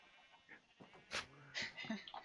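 Zombie sheep from a Minecraft mod give short bleats and goat-like cries in quick bursts, with game noises around them, moderately close in a busy in-game scene.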